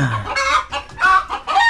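Chickens cluck close by in a few quick, choppy bursts, loud and lively with no talking.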